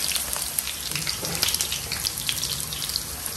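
Onions frying in a little oil after potatoes are taken out, a dense bright crackling sizzle with fine popping, close and steady for a few seconds.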